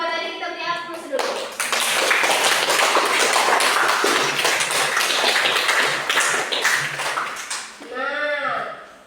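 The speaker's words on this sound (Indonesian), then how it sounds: "kita beri aplaus dulu" A classroom of students at an MTs Darul Funun science lesson breaks into dense, sustained applause lasting several seconds, with voices speaking just before and after.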